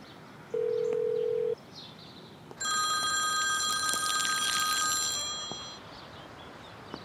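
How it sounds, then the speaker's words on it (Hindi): A telephone call is placed: a short steady dial beep sounds first, then after a pause a bright electronic ringing tone repeats for about three seconds before fading out in a quiet room. "मैं वैसल को फोन करता हूँ, शायद वो वहीं हो"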